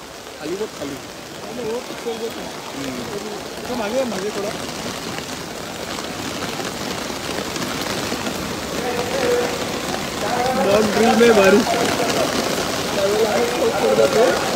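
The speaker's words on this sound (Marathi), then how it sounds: "पाऊस सुरू झालेला आहे" Steady rain patters on surfaces throughout during a mock drill in Kalyan, with voices talking over it and the downpour growing slightly heavier toward the end.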